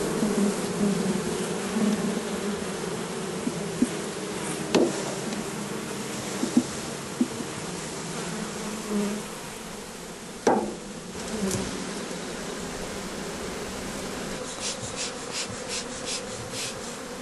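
Honeybees buzzing steadily at an open beehive, a dense continuous hum close by, with a few sharp knocks and taps from hive handling scattered through.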